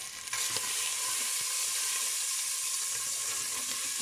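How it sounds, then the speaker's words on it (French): Bacon lardons fry in a little oil, giving a steady, dense sizzle that holds close and even from start to finish, with a faint clink near the start. "Je suis en train de faire revenir des lardons."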